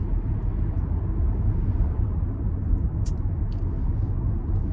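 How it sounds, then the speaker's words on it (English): Low, steady engine and road rumble inside a moving car on a sunny morning drive, a constant droning hum with faint brief clicks and no talking. "I'm in the car today."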